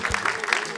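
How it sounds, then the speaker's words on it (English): A game show studio audience applauds a contestant who won 1,000 Ghana cedis, a short burst of dense clapping that is fairly loud but brief. "Give him a round of applause."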